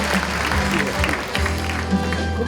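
An audience at a talk concert applauds as guests are introduced, with steady clapping running beneath a loud PA hum and background noise.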